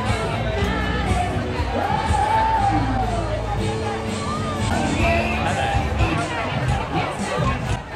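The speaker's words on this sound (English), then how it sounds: "The crowd was buzzing and the parade was freaking awesome." A large crowd at the Brighton Pride parade, a dense, steady hubbub of chatter, cheers and occasional whoops filling the air without a break.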